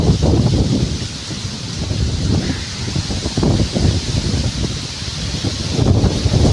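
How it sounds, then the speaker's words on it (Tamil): Strong wind roars steadily with broad gusting rumble and rustling, loud and continuous throughout, with no voices. "அந்தளவுக்கு காற்று பாருங்க எப்படி அடிக்குதுன்ட்டு"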